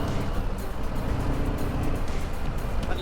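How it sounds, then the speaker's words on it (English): Continuous road traffic on a UK street, a dense low rumble of engines and tyres with a car seeming to pass, steady and fairly close, without talk. "it's probably the most traffic I've seen in ages"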